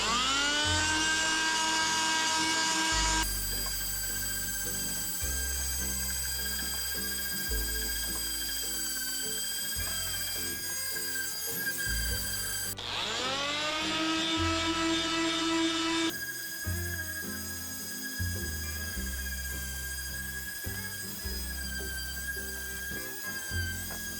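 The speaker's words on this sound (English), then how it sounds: "now that we've finished sanding with the circular sander" A circular power sander stripping white paint from an ottoman whines continuously at high pitch, cutting out briefly twice and restarting, with scraping contact noise underneath.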